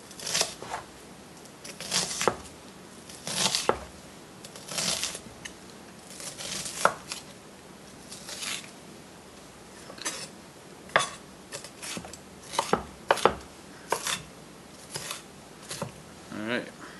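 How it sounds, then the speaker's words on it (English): Rapid knife chops tap on a cutting board dicing an onion, in irregular bursts throughout, close by, with brief pauses between runs of cutting. "Just dice it up small."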